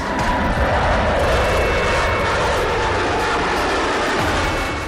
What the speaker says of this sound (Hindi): एरो शो में तेजस के साथ US एयरफोर्स के B-1B long range supersonic heavy bomber aircraft ने भी उड़ान भरी।